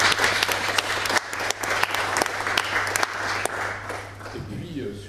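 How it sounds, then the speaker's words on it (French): An audience applauds volunteers at a French talk event, a steady, dense wash of clapping that holds for several seconds before thinning near the end. "Je pense qu'on peut les applaudir."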